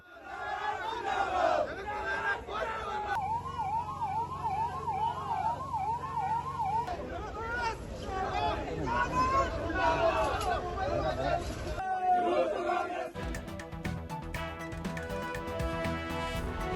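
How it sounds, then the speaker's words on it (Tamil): Police disperse a student protest in Kerala with a water cannon. A large crowd shouts and chants loudly while a siren wails, and raised voices continue throughout. "தலைமைச் செயலகத்தை முற்றுகையிட முயன்ற மாணவர்கள் அமைப்பினரை தண்ணீரை பீச்சி அடித்து கலைத்த காவல்துறை"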